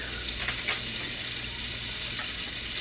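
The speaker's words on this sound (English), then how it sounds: "So we're just gonna stir fry them all together." Kielbasa sausage and vegetables sizzle steadily in a pot for a soup, a dense continuous frying hiss with a few soft stirring scrapes and no voices.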